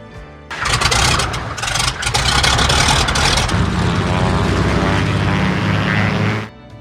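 A small propeller airplane's engine runs loud and steady in flight, a continuous droning roar that fills the space, building from a quieter start and cutting off abruptly at the end.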